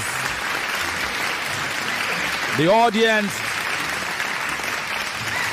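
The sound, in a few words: audience applause at a debate tournament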